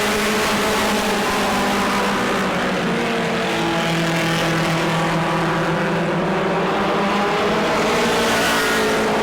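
Modified race cars roar together on an oval track at New Smyrna as the field takes the green, a loud, continuous layered engine drone with shifting pitch throughout.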